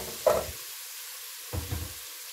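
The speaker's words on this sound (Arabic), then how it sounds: "ومجرد بس الطماطم ما تاخد تشويحة كده خفيفة" Diced tomatoes tipped into a hot pan, with two short sizzling bursts separated by a quiet pause.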